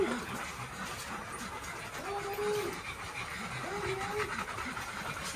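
Rescue puppy making thin, rising whimpers, two short whines close by, under steady background chatter and soft voices of people greeting dogs at a day care pack.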